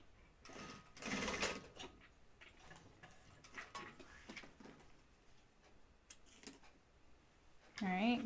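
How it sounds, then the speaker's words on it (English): A home sewing machine runs a back stitch on a Blanca flight suit, its needle chattering in short, faint bursts separated by pauses, with a brief voice near the end. "Let's put this back stitch in."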